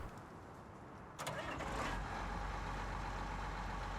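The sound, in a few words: vehicle engine starting in Farming Simulator 19 video game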